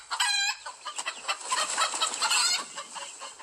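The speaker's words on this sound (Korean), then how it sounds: "수탉은 목청껏 고래고래 소리를 질렀어요." A rooster crows loudly in a fairy-tale story, a long, strained cock-a-doodle-doo with clucking, close and clear with no talk over it.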